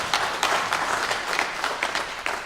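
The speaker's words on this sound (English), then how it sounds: "I think they also deserve a round of applause." An audience at a book launch expo claps in a steady round of applause, with individual hand claps audible in a moderate, even patter.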